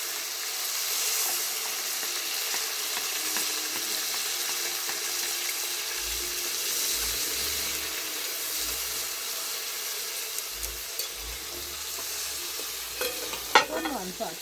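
Ackee fries in a pan with seasoning, giving a steady soft sizzle with occasional scraping stirs and light clinks, close and fairly quiet, with no talking.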